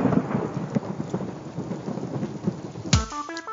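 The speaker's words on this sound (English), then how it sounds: "Because after you get struck by lightning, there's thunder." A thunderstorm effect from a radio ad in Grand Theft Auto: Vice City, with steady rain and rumbling thunder throughout. It ends in a sharp crack near the end, followed by a short electronic jingle.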